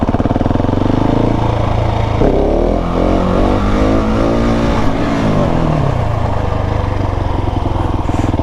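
Motorcycle engine held at steady throttle and revved through a wheelie on private land, a loud close continuous drone with pitch rising and falling as the rider works the gas.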